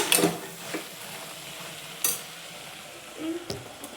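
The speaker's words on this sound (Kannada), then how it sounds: "ಚೆನ್ನಾಗಿ ಫ್ರೈ ಆಗ್ತಿದೆ." Mixed vegetables for a kurma frying in a pan, a quiet steady sizzle broken by a few sharp scrapes and clinks of stirring near the start, middle and end, with no talk.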